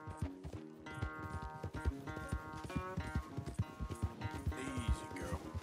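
A horse gallops in Red Dead Redemption 2 during a race, rapid rhythmic hoofbeats drumming close and steady under a sustained musical score.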